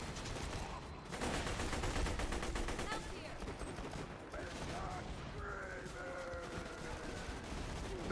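Rapid automatic gunfire and scattered shots rattle through a Borderlands 2 firefight, with the burst strongest early and then settling into steadier background fire, while players talk over it.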